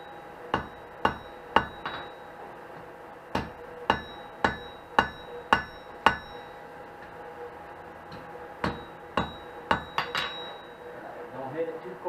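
A hammer strikes hot steel on an anvil to forge-weld a braided twist handle, ringing metallic blows in quick clusters of two to five with short pauses between, close and crisp over a faint forge background.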